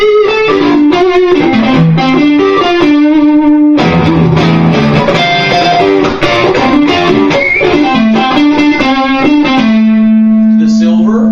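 Overdriven electric guitar through a Tube Screamer into a Fender Blackface Bandmaster amp plays bluesy licks and bends, loud and continuous, with a gritty distorted tone and a held note ringing out at the end.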